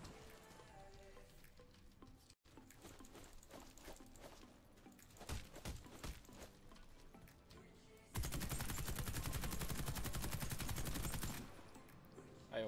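Gunfire from a shooting video game: a dense, loud burst of rapid shots runs for about three seconds near the end, after a stretch of mixed, busier game sounds.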